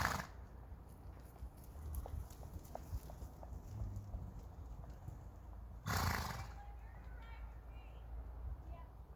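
A ridden horse on a riding lesson, its hooves clip-clopping in a soft uneven rhythm at a distance, with a whinny and a brief burst of rustling midway, while people talk faintly in the background.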